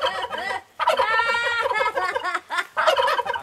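Domestic turkey gobbling in repeated loud, rattling bursts close by, with short pauses between calls and no talking.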